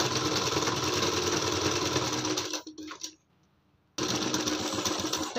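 A sewing machine runs in a fast, steady whir while stitching the neckline of a lined net-fabric kurti, stops briefly into near silence, then starts stitching again.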